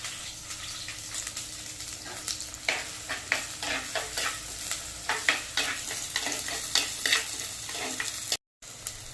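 Small onions hit hot oil tempered with fenugreek for a fish curry, crackling and sizzling steadily while a spoon stirs with repeated scraping clinks, followed by a brief silence near the end.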